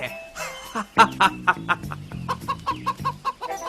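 Chicken clucking in a storytelling sound effect about a hunter and a chicken, a series of short, clipped clucks in quick succession, close and clear, with nothing else around it.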